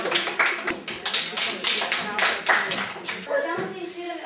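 A talent show audience applauds after a street dance and monologue performance, with dense, steady clapping up close and rising and falling in waves, a few voices mixed in.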